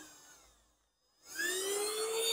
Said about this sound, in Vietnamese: Đây là tiếng động cơ nó hút này.